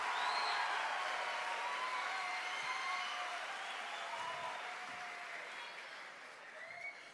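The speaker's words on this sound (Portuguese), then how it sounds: "Pode aplaudir." Audience applause at a Catholic youth camp gathering rises as a thick, continuous roar of clapping with scattered cheers, then slowly tapers off over several seconds.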